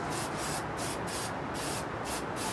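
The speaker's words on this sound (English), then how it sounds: "Best rattle can paint job ever." Rattle-can spray paint hissing in short bursts during an engine restoration, loud and close, pulsing on and off in a steady rhythm with no talk.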